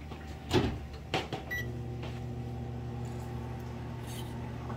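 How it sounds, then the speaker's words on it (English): A couple of clicks and a microwave door thump, then a steady low electric hum drones on evenly as the microwave runs nearby, melting butter. "I'm going to microwave some butter and melt it"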